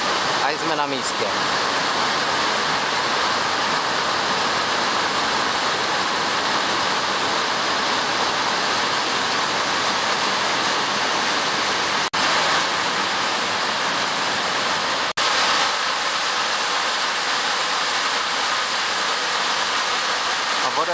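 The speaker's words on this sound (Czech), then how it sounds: "A už je slyšet mohutné burácení vodopádu." Close, constant roar of a big waterfall crashing down inside a Madeira gorge, a thick, even rush of noise with no pauses throughout.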